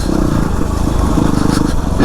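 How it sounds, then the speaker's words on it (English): Yamaha WR250R dirt bike rolling along off-road trails at Hollister Hills SVRA, a steady, loud engine drone with harmonic buzz and rough wind and terrain noise, close and continuous with no talk. "Just letting the bike roll."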